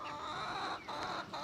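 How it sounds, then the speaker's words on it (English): Soft, continuous clucking from several chickens, faint and somewhat distant, with a steady outdoor hiss and no talking. "so many chickens"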